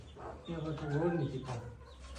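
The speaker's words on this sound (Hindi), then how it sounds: "दोस्तों एक जंगली कबूतर यहाँ पर आया हुआ है" A soft, low cooing call from a pigeon nearby, a short rolling phrase over faint background hum.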